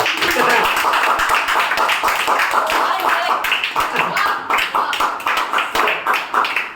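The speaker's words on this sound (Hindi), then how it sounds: "ताली बजाओ ट्रिक से।" Students in a class clap along with a teacher, a dense run of sharp, rhythmic claps close by, mixed with chatter and voices throughout.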